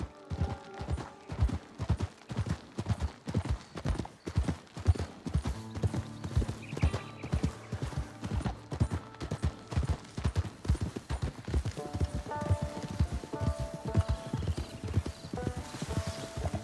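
Horse hooves clip-clop steadily in Red Dead Online, a dense, regular rhythm of close, crisp strikes over a continuous music bed, with no voices.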